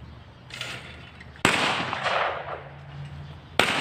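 Gunshots ring out at a hunting and equestrian club shooting range in Al Ain, two sharp loud cracks a couple of seconds apart, each trailing into a long echoing decay.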